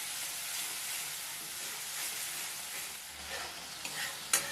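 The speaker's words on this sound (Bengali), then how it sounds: "একটু জল দিয়ে মশলাটা একটু কষিয়ে নেব।" Spice paste loosened with a little water fries in a pan, giving a steady hissing sizzle close up, with a couple of light spoon taps near the end.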